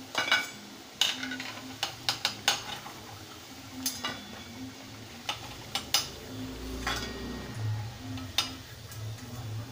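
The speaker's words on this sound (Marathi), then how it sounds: "अशा पद्धतीने मी सगळ्या बट्ट्या आता तळून घेते." Batti dough balls frying in a pot of hot oil, with a steady low sizzle under scattered clinks and scrapes of a utensil against the pan.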